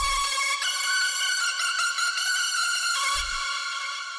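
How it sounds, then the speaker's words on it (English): Bright, piercing hardstyle screech lead layer built in FL Studio from a saw wave, held as a sustained wavering tone with brief low thumps at the start and near the end. "And it's sort of a screech basically."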